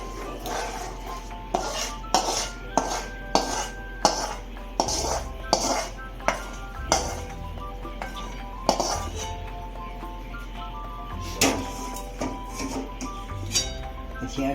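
Laddu mixture stirred in a metal pan for traditional Siddhpur-style laddus, giving repeated clanking and scraping strikes of a spoon against the pan in an irregular rhythm, close and fairly loud, with no talking.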